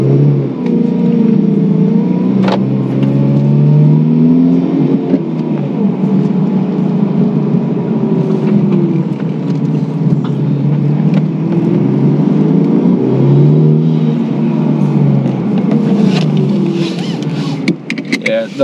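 Honda Civic Type R FK8 on the road at night, heard from inside the cabin as a steady low engine drone that rises and falls with gear changes and acceleration, loud and continuous throughout.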